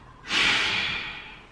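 A single long, steady breath drawn and released while holding a yoga pose, close and clear, rising quickly then fading slowly over about a second.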